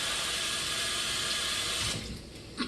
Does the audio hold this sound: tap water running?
yes